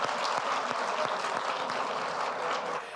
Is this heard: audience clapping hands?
yes